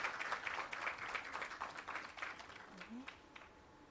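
Applause rolls through a crowd at an employee service awards ceremony marking a trade board's 40th anniversary, dense and steady clapping that thins slightly toward the end, with a brief voice or whoop near the close.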